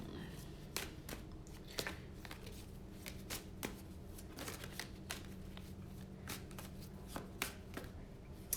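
Tarot cards are shuffled by hand in repeated crisp riffling bursts and soft slaps, close and quiet, with a person speaking softly at times.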